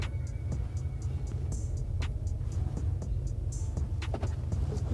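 A supercharged 2014 GMC Sierra 5.3 truck with a BTR 220 cam cruises along a street, its engine giving a steady low rumble throughout, with faint ticks and clicks from inside the cab.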